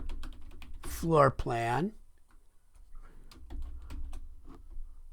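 Light, quick keystrokes on a computer keyboard while filling in an architectural drawing title, a brief voice first and then scattered close clicks.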